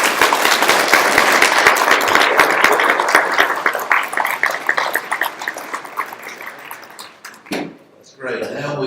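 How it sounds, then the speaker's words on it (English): An audience at a 2018 candidate forum in Lamesa, Texas applauds steadily for several seconds, a dense clatter of clapping with voices mixed in, fading before someone starts speaking. "let's give them a round of"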